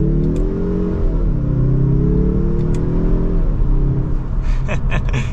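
A 2024 Mazda 3 Hatchback with the 2.5-litre turbo engine pulls away from a stop, its engine note climbing steadily and rising again after a gear change, loud and close, with small clicks near the end.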